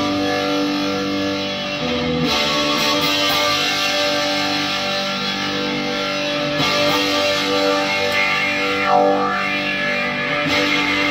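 Electric guitar played through a Big Muff fuzz pedal gives a thick, saturated, sustained distorted tone, with chords ringing continuously and loud, with no voices.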